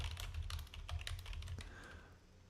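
Rapid computer keyboard typing, a dense run of quick clicking keystrokes close up over a steady low hum, with no voices.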